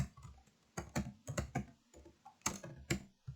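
Bursts of computer keyboard typing, quick clustered clicks with short pauses between, close and fairly quiet, no talking.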